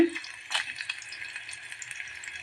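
Shallots and dried red chilies frying in hot oil in a pan for sambar, a steady close sizzle with a brief stir-like burst near the start.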